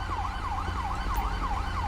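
An ambulance siren in the police game LSPDFR wails in a steady, repeating up-and-down sweep, about four cycles, loud and continuous over a low rumble of traffic and engine noise.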